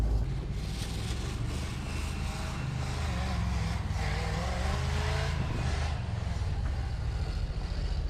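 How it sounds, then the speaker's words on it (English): A big-block 1966 Crown Imperial, long left abandoned, spins through a donut with a steady loud engine roar and broad tire and wind noise throughout, no voices. "Here, let's do a donut by the good stuff."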